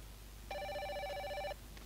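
A telephone rings in Fatal Frame: Maiden of Black Water with one steady electronic trill lasting about a second, fairly soft over a low ambient hum and followed by quiet.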